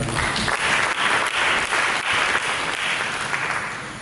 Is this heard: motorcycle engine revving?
no